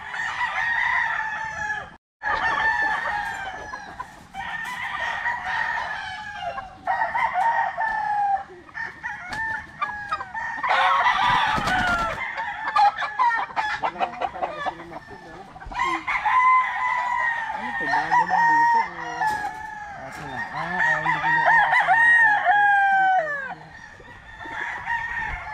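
Several game-farm roosters crow one after another at close range, with clucking hens in between and a few quiet voices in the background.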